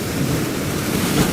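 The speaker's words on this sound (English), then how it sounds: "The waves are crashing up only about 2 metres below where I'm sitting." Ocean surf crashes against rocks on the Pacific coast of Chile just a couple of metres below, a loud, dense roar of churning water with wind buffeting the microphone.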